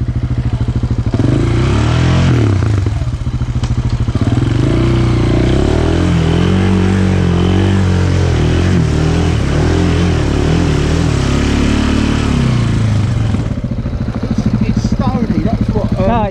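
A motorcycle ridden through deep mud around a tree, its engine droning steadily and loudly close by with clattering, and voices talking over it.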